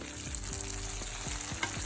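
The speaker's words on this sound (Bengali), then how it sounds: "টমেটোটা দেওয়ার পর আবার একটু ভেজে নেব" Chopped tomato frying in hot oil in a pan for a drumstick and potato curry with fish head, a steady close sizzle with repeated scraping stirs.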